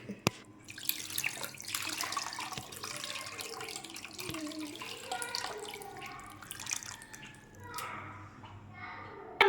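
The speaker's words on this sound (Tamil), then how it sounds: "புளியை கரைச்சி ஊற்றிக்கலாம்" Dissolved tamarind water is poured into a pot for fish curry, making a steady running-water splash through most of the clip, with faint voices in the background.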